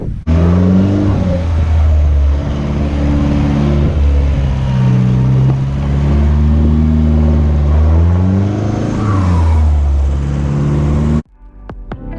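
A 4WD car drives along beach tracks at Kinkuna Beach, Queensland, its engine droning loudly and steadily with rising and falling revs, close up inside the vehicle, then cutting off abruptly near the end.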